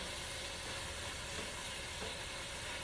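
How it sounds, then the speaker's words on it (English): Smoked sausage heating in a pan for seafood paella, a steady, even sizzle and fry that continues without a break, fairly quiet with no talking. "I'm just going ahead and heating up my smoked sausage"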